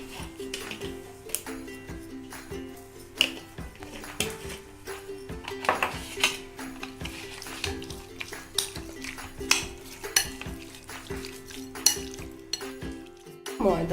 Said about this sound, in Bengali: চিলি ফ্লেক্স দিয়ে একটু মেখে কোট করব